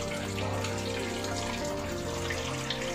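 Tap water runs into a kitchen sink during rinsing, a steady close splashing and trickling that continues without pause throughout.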